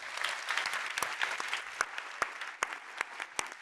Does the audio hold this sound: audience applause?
yes